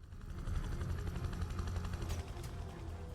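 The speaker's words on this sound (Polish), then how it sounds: "No i wysiadamy z śmigłowca." A helicopter in the video game Prototype 2 thrums steadily with a loud, continuous rotor drone, joined near the end by a couple of sharp bursts that may be gunfire.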